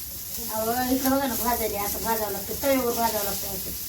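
Paneer frying in oil in a home kitchen gives a steady, moderately loud sizzle, with voices talking over it almost throughout.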